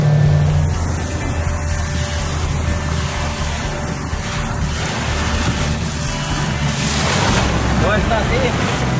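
A boat runs along the beach on the open sea while out fishing for sea trout, giving a steady loud wash of engine, hull and surf noise with heavy wind buffeting the microphone throughout.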